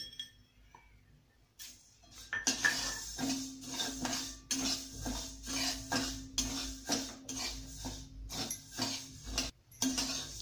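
Fenugreek seeds dry roasted in a pan, stirred with a metal utensil: close, repeated clinks and scrapes against the pan in an uneven rhythm, with no talking.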